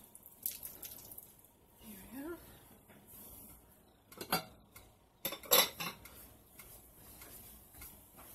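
Spoon clinks and scrapes in a pot as cheese and diced Hillshire Farm kielbasa are stirred into creamy potato and white cheddar soup, a few scattered utensil knocks standing out against quiet kitchen background.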